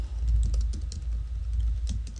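Rapid typing on a computer keyboard, a quick irregular run of close key clicks with no talking.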